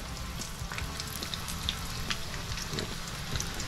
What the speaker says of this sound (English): go ahead and drop your roulade into the oil